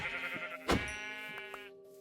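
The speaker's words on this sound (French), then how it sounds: "je vais pas tuer tous les moutons non plus" Sheep in the Minecraft video game bleat in a drawn-out, wavering call, close and clear, with a couple of short clicks and knocks around it and no talk.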